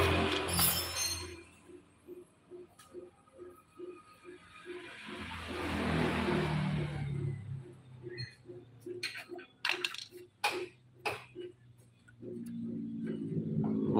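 A Honda Beat scooter engine with an internal fault makes a fast, steady mechanical ticking at first, then a rushing wash of noise, followed by scattered metallic clinks and taps close to the engine.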